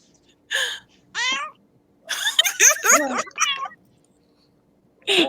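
A pet cat at home meows in several short, rising-and-falling calls spread across a few seconds, close and fairly loud, with gaps of quiet between them.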